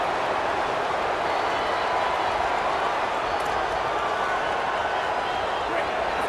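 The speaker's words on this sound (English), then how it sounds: "This crowd, full throat, splitting the eardrums" Dense, steady roar of a packed stadium crowd in EA Sports College Football, loud and unbroken throughout, with a faint murmur of talk mixed in beneath the noise.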